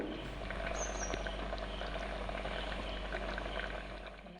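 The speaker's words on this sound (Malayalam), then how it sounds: "നന്നായി തിളച്ച് വരുന്നുണ്ട്" A pot of beetroot potato curry bubbles on the stove, giving a faint, continuous, low simmering hiss with scattered soft pops.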